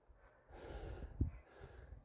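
Heavy breathing from a hiker climbing the steep, narrow Aonach Eagach ridge in the Scottish Highlands, a steady faint panting with one sharper gasp partway through, close but quiet and with no talking.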